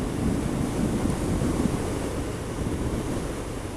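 Heavy wind buffeting roars across a microphone while riding a Harley-Davidson Dyna Low Rider motorcycle, a dense low rushing noise that stays loud and steady with no voices.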